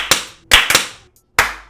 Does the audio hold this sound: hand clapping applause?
yes